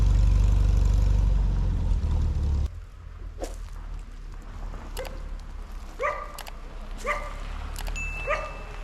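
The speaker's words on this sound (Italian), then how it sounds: "Al momento è tutto abbastanza tranquillo, tranne un cane che abbaia." A dog barks in a picnic area in Sardinia, several short yips and barks spaced a second or so apart at moderate distance, following a loud rumbling engine-like noise that stops early on.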